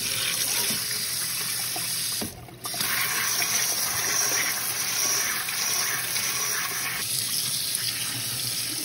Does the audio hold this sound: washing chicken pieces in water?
yes